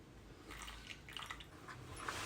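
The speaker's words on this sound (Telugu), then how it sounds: "కొన్ని వాటర్ పోసుకోవాలి" Water poured into dosa batter for an evening snack gives a soft, wet dribbling and squishing of liquid into thick batter, close and fairly quiet, alone without talk.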